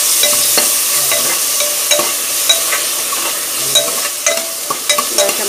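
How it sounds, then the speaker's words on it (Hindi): Tomatoes go into a pan of onions fried golden brown and sizzle loudly up close. Repeated stirring clinks and scrapes punctuate the continuous frying hiss. "अब मैं इसमें टमाटर डालूंगी"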